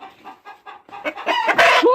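A chicken clucks in short repeated bursts, growing louder and more agitated toward a squawking end, close by.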